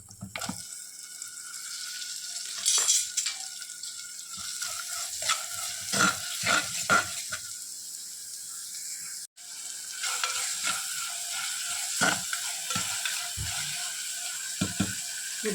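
Tomato goes into a frying pan with garlic paste and is stirred, soft sizzling under repeated scraping and clacking of a spoon against the pan, with one sharp knock midway.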